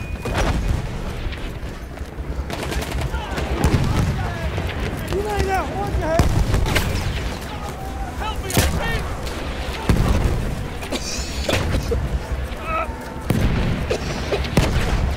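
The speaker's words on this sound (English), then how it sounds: "Oh, that's mortars." Mortar shells pound a Battlefield 1 multiplayer match in repeated heavy booms and blasts, mixed with scattered gunfire and battle noise throughout.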